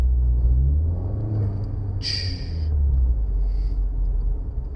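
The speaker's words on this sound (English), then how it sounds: "it's enough you can tell there's a turbo in there" A Chevrolet Cruze 1.4 turbo engine fitted with a new intake drones low and steady, with a brief airy whoosh near the middle and a fainter one shortly after.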